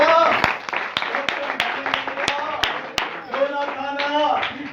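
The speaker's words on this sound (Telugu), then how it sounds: "చప్పట్లు కొడతారా?" An audience claps in a hall, with a mix of sharp individual hand claps over a crowd's applause, while a voice talks through it in the foreground.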